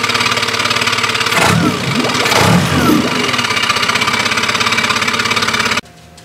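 A 2011 Yamaha 15 HP four-stroke outboard engine, previously hydro-locked with oil, idles loudly and steadily with a rhythmic mechanical pulse and a couple of brief surges, then cuts off abruptly near the end.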